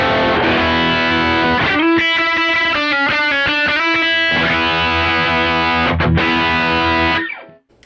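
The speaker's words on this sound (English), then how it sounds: "you turn on treble booster, and it sounds like this" An electric guitar played through a Kemper amp with the treble booster switched on rings out loud and saturated, with full sustained chords, a run of picked notes, then strummed chords that fade into silence at the end.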